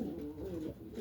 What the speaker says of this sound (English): Pigeon cocks.